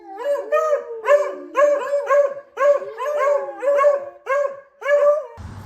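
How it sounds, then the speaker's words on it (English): Two beagles bark and bay in a steady, rhythmic run of loud howling yelps, about a dozen in quick succession, close by with no talking. "that's about as loud as my 2 beagles on a barking rampage"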